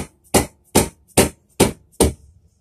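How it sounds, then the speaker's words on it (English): Five sharp, loud impacts in a steady rhythm, about two per second, as a rubber mallet strikes a pry bar set against a bolt while taking apart a TV, each hit ringing briefly before the next. "I'm going to be trying to hit the bolt out towards the left here with my rubber mallet and a pry bar"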